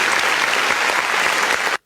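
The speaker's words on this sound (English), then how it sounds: "Dylan, I think that deserves a round of applause" A crowd claps steadily in dense, sustained applause, then the sound stops abruptly near the end.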